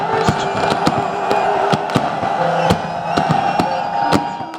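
New Year fireworks over Lahore bursting in a steady series of sharp cracks and pops over a constant, loud crowd roar, with some distant cheering throughout.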